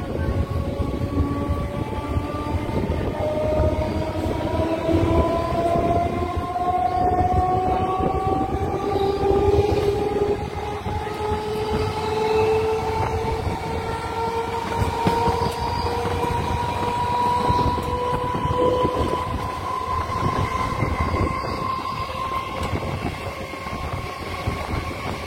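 A local train on the Bandel to Barddhaman line in Hooghly district runs after leaving Talandu station, heard from inside as a steady rolling rumble with a long rising whine from the motors, and no one speaking.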